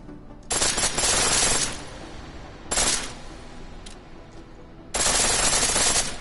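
Pistol switched to full-auto fire in Deus Ex: Mankind Divided, in three loud, dense bursts of rapid shots separated by short pauses, with no voices.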